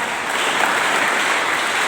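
Audience claps at a school Christmas celebration, a brief burst of dense, even applause from many hands, steady and fairly loud with no voices.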